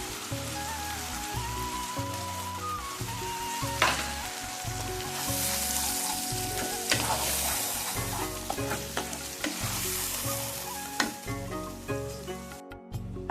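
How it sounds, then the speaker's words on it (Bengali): Tomato paste hisses and spatters in a pan of fried onion paste for aloo do pyaza, a continuous sizzle with repeated scraping stirs and small pops, no voices present. "তারপর আমি দেবো বেটে রাখা টমেটোটা পেস্ট করা।"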